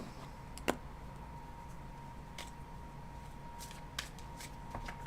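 Tarot cards being shuffled, with a few crisp riffling snaps over a quiet background hum.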